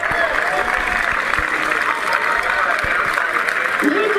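Stadium crowd applauding during a women's distance race at an athletics meet, a steady dense wash of clapping at a distance, under continuous commentary.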